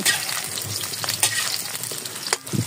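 Saba bananas frying in hot oil, a steady close sizzle and crackle throughout with occasional stirring clicks, no voices.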